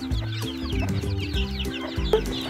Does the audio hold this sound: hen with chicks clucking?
yes